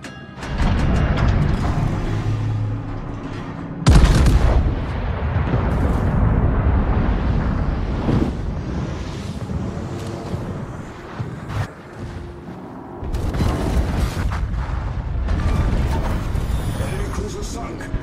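Battleship King George V's main guns firing in World of Warships, deep booming blasts with heavy rumbling tails, loud and close, mixed with voices and continuous naval battle ambience.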